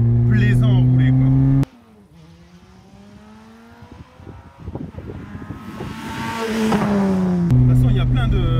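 A Peugeot 205 with a 1.4-litre, 75-horsepower engine, rally-style, is driven on a test drive, its engine revving and pulling through rising and falling tones. A voice speaks over the engine in places.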